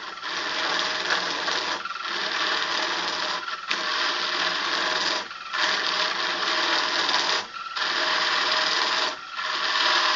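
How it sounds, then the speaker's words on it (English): A quarter-inch chisel cuts into a spinning wood lathe workpiece, hollowing the cup of a dragon-claw goblet; a steady, loud rasping scrape runs continuously, broken by brief dips every couple of seconds as the tool lifts or repositions. "It's hollowing out quite nicely actually."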